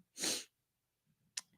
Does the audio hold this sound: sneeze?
yes